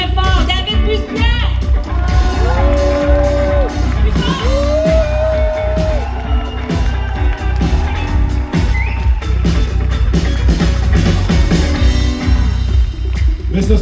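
Concert audience in Québec cheering loudly and continuously, with shouts, whoops and scattered applause, music or sustained tones cutting through the crowd noise, dense and close throughout.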